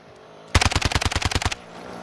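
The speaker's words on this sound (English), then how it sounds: "Oh, they're shooting at me." A rapid burst of about a dozen gunshots rings out in a Warzone match, loud and evenly spaced over roughly one second, with quiet before and after.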